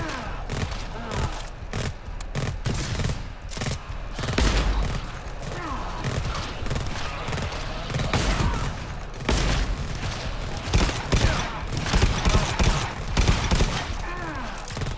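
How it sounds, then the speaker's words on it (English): Burst machine guns firing in the video game GTFO, rapid repeated volleys of gunfire crackling almost continuously and loudly, with shouted voices between the bursts. "I'm not sure those burst machine guns are doing as much."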